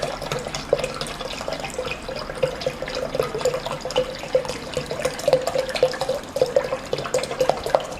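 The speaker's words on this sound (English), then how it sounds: "And into this I am going to add 1 liter of fresh milk." One liter of fresh whole milk pours into espresso shots for an iced coffee concentrate, a steady close liquid stream with bubbling and splashing that continues unbroken throughout, no voices.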